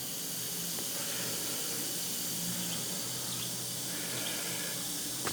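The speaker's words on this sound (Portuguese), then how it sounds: "Dá até para ouvir aquele barulhinho de champanhe, de refrigerante" Hydrogen gas bubbles fizz continuously from a water electrolysis cell, a soft steady hiss like champagne or soda, heard close and alone without talk.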